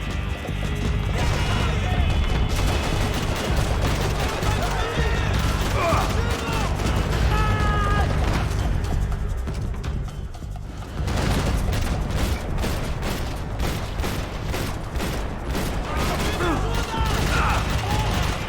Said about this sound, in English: AK-47 వాడదాం